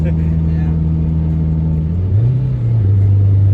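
A 908 wheel-horsepower Subaru STI accelerates hard, its engine droning loud and close with a steady rising tone that dips briefly at a gear change and then climbs again.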